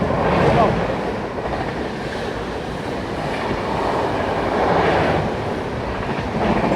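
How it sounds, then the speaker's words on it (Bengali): The Howrah Rajdhani Express rushes past at about 130 km/h, a loud, close, continuous roar of wheels and rolling stock with a rumbling low end and faint rhythmic clatter, swelling slightly as coaches go by. "রাজধানী ভাই ফ্ল্যাট দিয়ে বেরিয়ে চলে গেল 130-এ ওভারটেক মেরে"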